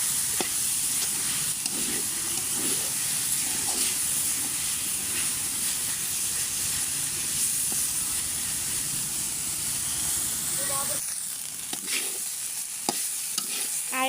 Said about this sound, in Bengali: এখন হচ্ছে ভেজে নিচ্ছি।